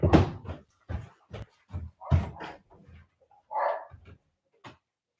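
A pet dog named Dottie barks indoors in a series of sharp, separate barks with short gaps between them, fairly close by, and no talking over them.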